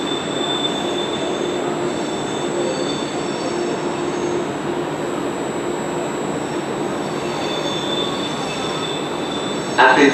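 A Trenitalia train pulls into a platform at Roma Termini station, with a steady, close rolling rumble and a continuous high metallic wheel squeal. No one speaks.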